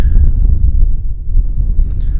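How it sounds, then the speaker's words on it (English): Strong wind gusting across an open desert campsite, a steady low roar buffeting the microphone throughout with slight rises and dips, loud and close with no other clear sounds. "right now it's too windy even to set up our awning"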